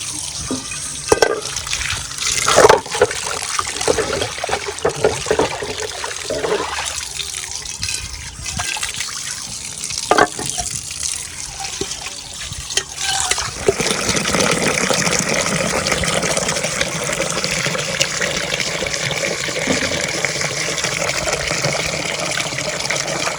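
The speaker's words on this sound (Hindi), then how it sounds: "पानी भी भर लिया?" Water runs from a tap into a sink, with intermittent splashes and clatter of washing at first, then a steady, close gush as a container fills.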